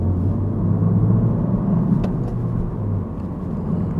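A Honda Civic Type R FK7 engine accelerates at half throttle in second gear, a loud close rumbling drone that builds steadily for a few seconds, with no talk.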